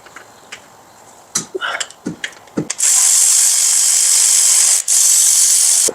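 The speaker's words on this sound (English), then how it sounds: "You want to remove the starter bolt first." A starter bolt comes out of a PT Cruiser during clutch removal: a few sharp ratchet clicks and metallic knocks, then a long loud continuous hiss-like whir from a power tool, briefly interrupted once.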